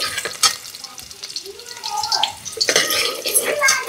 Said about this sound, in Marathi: तर आपलं तेल मस्त तापलेलं आहे, तर पहिले लसण टाकून घ्यायचा।